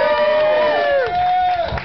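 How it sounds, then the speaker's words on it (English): Crowd at a live road show in a bar cheers with whoops and a sliding, high-pitched shout, with some clapping underneath, loud and close for about two seconds. "Can I have a round of applause for Jamie?"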